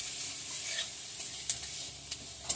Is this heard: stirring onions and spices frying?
yes